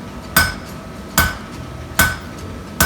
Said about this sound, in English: Doing what's called a half-face hammer blow. It just means I'm striking so the hammer is half on the anvil and half off